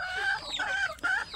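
Chickens on a farm cluck in a short run of close, nasal calls with brief pauses, a few notes rising into a squawk, and no one speaking.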